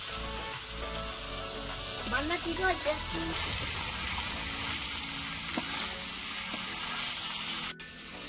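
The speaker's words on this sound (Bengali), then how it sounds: "এঁচোড় আর আলুটা দিয়ে দিলাম। এঁচোড় আলুর সঙ্গেও কষাতে হবে।" Green jackfruit and potato pieces being fried and stirred in oil for a prawn dish, a close sizzling crackle with a few clinks and scrapes of a spatula against the pan.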